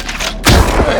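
A single loud gunshot blast rings out in a movie scene where robbers open fire, a sharp boom followed by a brief rumbling tail.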